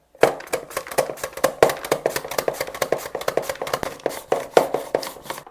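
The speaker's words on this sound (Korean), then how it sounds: "일단 감자부터 밀어줄게요" Potato is pushed rapidly across a mandoline slicer set to its thinnest julienne blade, giving a quick, even run of loud rasping strokes with short swishes between them, close and without voices.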